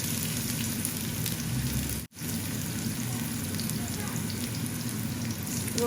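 Garlic sizzles steadily in hot oil as a tempering for dal, a dense, even crackle that runs close and continuous with one brief drop near the middle.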